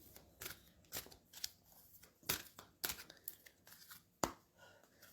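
A deck of cards is shuffled in a series of quiet, irregular papery riffles and snaps, close and soft, with no talking.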